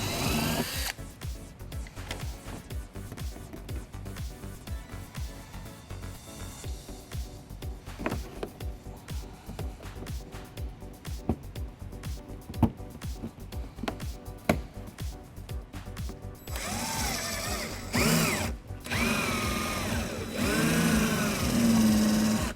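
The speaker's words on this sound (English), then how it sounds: "we're going to drill out the center of it using a small drill bit" A small drill bit bores out plastic rivet centres on a 2014 BMW X5 during hitch installation, a long run of rapid rattling whirs and clicks, followed by louder sustained drilling near the end.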